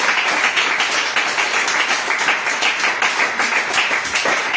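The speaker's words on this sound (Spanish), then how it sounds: "Yo siempre usted le diera un aplauso al Señor." A church congregation applauds during a sermon, a steady dense wash of many hands clapping at close range that holds at an even level throughout, with no voices over it.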